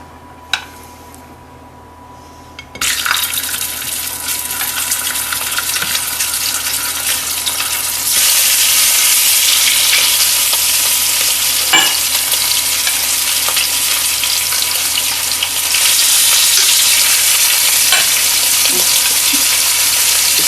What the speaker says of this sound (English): Naomi is going to add our herbed lamb chops to the pan, and we are going to sear them on both sides.